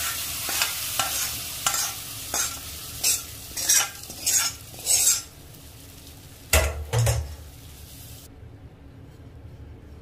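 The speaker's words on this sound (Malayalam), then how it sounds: "അപ്പൊ നമുക്ക് കടുക് വറുത്തത് ചിക്കനിലേക്ക് ഇട്ട് കൊടുക്കണം." Fried mustard seeds tipped into a home-style chicken curry, then stirred: repeated scraping, clinking stirs of a spoon against the pot over a soft steady sizzle, with a louder clatter near the end and no voices.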